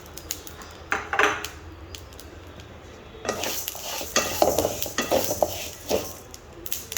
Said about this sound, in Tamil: ஆளி விதை போட போகிறோம் இது வந்து உடனே நல்லா பொரிய ஆரம்பிச்சிடும்